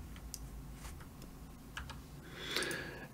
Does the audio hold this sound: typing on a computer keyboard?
yes